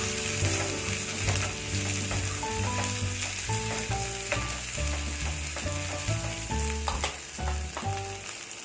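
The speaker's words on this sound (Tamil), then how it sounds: "இந்த நெய்யில வதக்கி போடுங்க, ரொம்ப நல்லா இருக்கும்." Tempering sautéed in ghee for keerai kootu, with a steady sizzle and busy rhythmic clinking and scraping of a spoon against the pan throughout, heard up close, though tonal background music runs over it.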